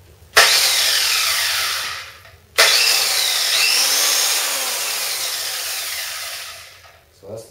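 Cheap angle grinder with a worse, louder gear system running in two long bursts, starting with a sharp whine, holding a loud steady buzz, then spinning down near the end.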